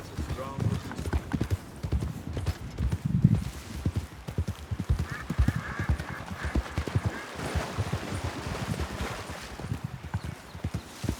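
Horses clip-clop in a steady run of hoof beats and let out a whinny partway through, with a voice talking over them.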